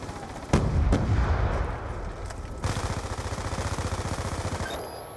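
A loud grenade blast booms in Black Ops 2, followed by rapid, rhythmic automatic gunfire that pounds on steadily for several seconds.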